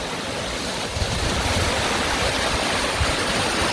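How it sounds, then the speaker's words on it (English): Waterfall in the Nubra Valley of Ladakh pouring down toward the Siachen River, a steady, close, full-bodied roar of rushing water with constant broadband wash and no voices. "See the waterfall."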